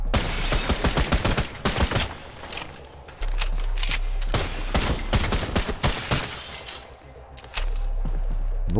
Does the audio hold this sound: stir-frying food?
no